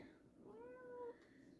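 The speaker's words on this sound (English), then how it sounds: "Here comes my cat." A pet cat gives a single drawn-out meow, close and fairly soft, rising and then falling over about half a second in a quiet room.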